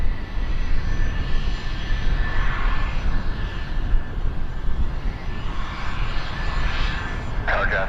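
An airplane landing on runway 24 left at Toronto Pearson airport gives a steady, loud engine roar throughout, with a brief sharper burst near the end.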